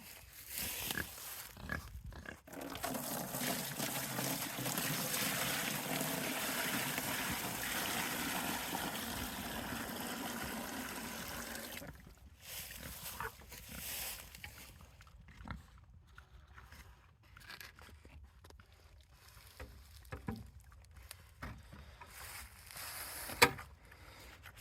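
Water pours steadily into a pig trough for about twelve seconds, a broad rushing splash, then gives way to quieter farmyard sounds with scattered knocks and snorting from the pigs on a Tennessee homestead.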